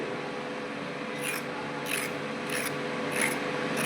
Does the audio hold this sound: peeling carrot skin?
yes